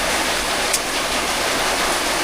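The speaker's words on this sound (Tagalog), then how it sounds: "wala pa rin tigil ang ulan." Heavy, steady rain roars without pause, heard from indoors in a house, a dense unbroken wash of falling water with a brief sharper patter partway through.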